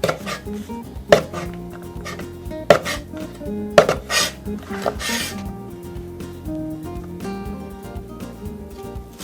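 A knife trims and slices green bean pods on a cutting board for jamón paella, giving sharp, spaced knocks against the board between quieter scraping and rustling, close up with no talking.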